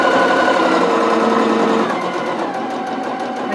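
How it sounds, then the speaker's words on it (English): A sewing machine runs continuously at a steady, fast rhythm while stitching a zippered wristlet seam, close and loud throughout with no talking. "just make sure everything's kept nice and square as you're sewing"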